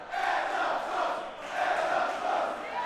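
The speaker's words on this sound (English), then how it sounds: "This crowd on their feet, sold out here." A sold-out arena crowd at a women's wrestling title match roars and cheers continuously, a dense, loud wash of voices swelling and dipping across the moment with no clear individual words.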